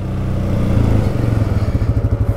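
A Can-Am Outlander 700 ATV engine accelerates up close, its loud rumbling drone quickening into a pulsing, rising beat over a couple of seconds.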